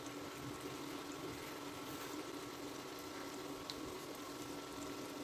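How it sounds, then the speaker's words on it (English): Minced mutton and potato patties cook in a pan on low to medium heat, giving a soft, steady sizzle that stays even and faint throughout. "Let it cook by itself for 4 to 5 minutes in the pan"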